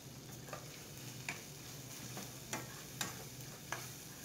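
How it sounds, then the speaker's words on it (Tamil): Tomato masala being stirred in a pan over a medium flame, the softened, smashed tomatoes frying with a steady low sizzle and several distinct spoon scrapes against the pan at irregular intervals. "இன்னும் கொஞ்சம் மீடியம் ஃப்ளேம் வச்சு நல்லா கலந்து விட்டுக்கலாம்."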